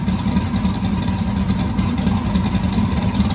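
A car engine idles with a steady, low rumbling throb, loud and close, unchanging throughout.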